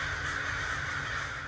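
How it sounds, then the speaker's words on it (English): Crows cawing loudly and continuously near a golf course behind homes in San Diego, Southern California, several birds close by with a steady, harsh chorus and no talking. "It's not the first time the crows have made Southern California their home."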